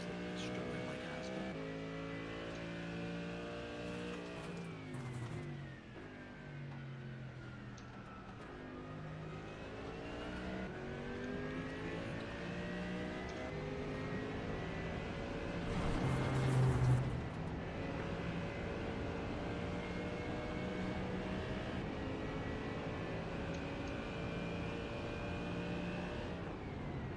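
Race car engines, including a Porsche, drone in an iRacing endurance race, with a steady engine note that rises and falls as the cars shift gears and pass through a corner.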